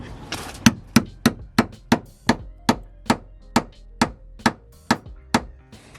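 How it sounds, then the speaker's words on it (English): Steady, evenly spaced metallic hammer blows hammering a tight part onto a Ford Fiesta, about a dozen strikes in a row, loud and close with nothing else in between. "I'm going to hammer it on first."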